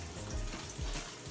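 Soft, steady crackling sizzle of bacon frying in a pan, continuous and close, with a few low thumps underneath.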